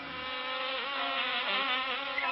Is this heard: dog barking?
no